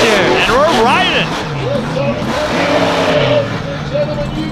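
Obsession monster truck engine revving hard at a freestyle event at the Antelope Valley Fair, loud, rising and falling roars heard from on board, mixed with crowd noise and talk.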